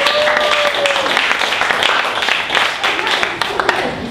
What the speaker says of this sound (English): raise your raise your palms and clap if you've ever been asked for a suggestion at an improv show before